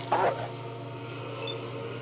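Dogmeat, the dog companion in the Fallout video game, lets out one short bark near the start, then steady low game ambience continues.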